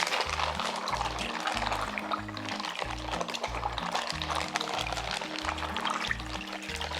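Synthetic sausage casing for homemade mortadella is dipped and swished in water, giving a steady close sloshing, pouring sound with a pulsing low rhythm.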